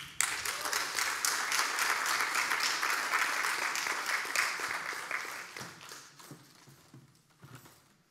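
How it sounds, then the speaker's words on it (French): A large audience gives warm applause to welcome a guest onto the stage, with loud sustained clapping that gradually thins and fades over the last few seconds. "Je vous prie d'accueillir et d'applaudir très chaleureusement Madame Elisabeth Moreno"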